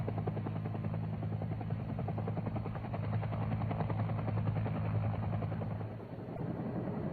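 A helicopter hovers during a MACV SOG McGuire rig extraction, its steady rotor thump and engine drone loud and continuous throughout.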